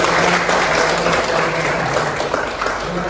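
Students in a classroom give a round of applause during a maths lesson, a steady, continuous patter of clapping throughout, with a faint tonal hum underneath.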